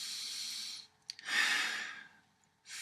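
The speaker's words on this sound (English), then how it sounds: "Then take a deep breath." A person takes slow, deep breaths close to the microphone: a long airy inhale and exhale, a short pause, then another breath beginning, with no speech.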